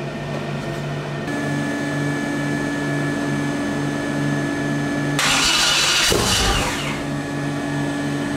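A 427ci twin-turbo LS engine rated at 1800hp cranks for its first start-up, a steady loud mechanical drone that surges into a brief rough, broadband burst near the end, then settles back to a hum.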